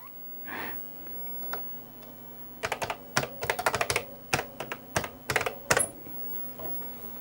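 Bursts of key clatter from an Amstrad PC1512 computer keyboard, starting after a short pause and continuing as quick irregular clusters of clicks for several seconds, close and fairly loud against a low background hum.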